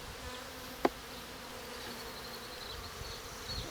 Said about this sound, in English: There's bees on them.